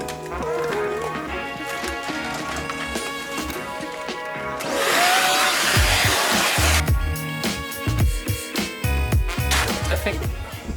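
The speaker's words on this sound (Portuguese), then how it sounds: "Mas primeiro eu vou limpar com o aspirador." A vacuum cleaner sucks debris out of a fireplace, its loud, rushing whoosh lasting about two seconds before cutting off amid clattering and background noise.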